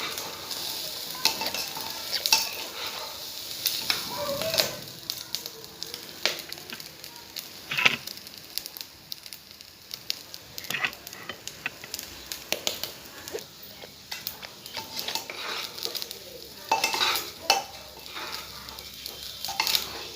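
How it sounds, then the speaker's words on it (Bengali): Rice being stirred and dry-fried in a pressure cooker, with a close, steady scraping and sizzling that rises and falls in irregular strokes throughout. "লাড়তে লাড়তে চাউল থেকে একটা সেট বেরিয়ে যাবে তখনই তোমরা বুঝবে যে চা ভাজা হয়ে গেছে"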